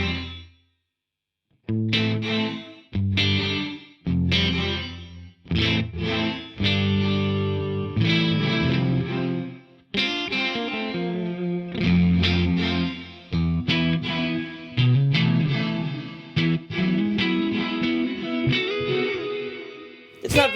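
Electric guitar played through an Eventide BlackHole reverb pedal set with gravity low and size minimal, distorted chords and notes ringing out loud after a brief silence, with shimmering chorus-like ambience.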